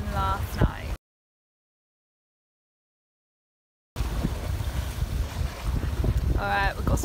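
A sailboat under way at sea on a long passage, with strong wind buffeting the microphone and water rushing alongside; a voice talks briefly at the start and again near the end, separated by a few seconds of complete silence.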